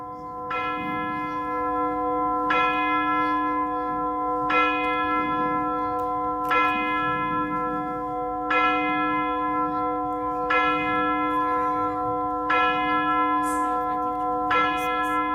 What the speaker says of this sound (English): The bell struck.